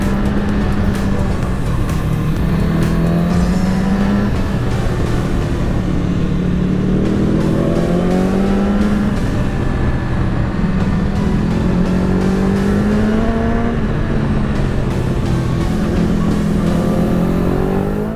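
A 2015 BMW S1000RR sport motorcycle engine revving close by, idling then rising and falling through several loud throttle blips and sweeps, with no talk over it.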